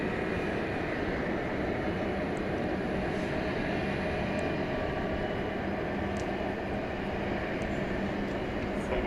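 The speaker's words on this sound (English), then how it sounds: "Making the big turn on 18 right for takeoff to Chicago Rockford International Airport." A jet airliner turns onto runway 18 right at DFW Airport at night for takeoff, giving a steady broadband engine roar that holds loud and even throughout, with no pauses or voices.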